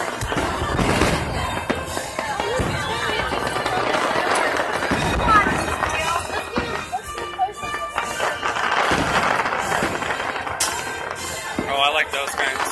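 Fourth of July fireworks at Magic Kingdom, with scattered distant booms and crackling bursts rising over a steady murmur of crowd chatter and nearby voices.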